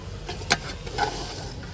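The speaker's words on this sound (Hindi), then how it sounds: "अभी इसको अच्छे तरीके से मैश करते हैं ताकि मसाले हमारे जो है ना अच्छे खासे मिक्स हो जाए" A spoon mashes radish, turnip and potato curry with spices in a pot, giving soft squelching and scraping with one sharp clack against the pot, close and fairly quiet.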